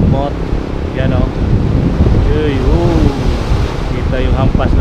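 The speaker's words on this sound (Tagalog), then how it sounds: "Grabe yung hampas ng mga kamot-mot. Malaki ang dagat ngayon at maalon." Rough sea surf roars and crashes steadily under gusty wind buffeting the microphone, while a voice talks over it, on the coast at Mauban, Quezon, Philippines.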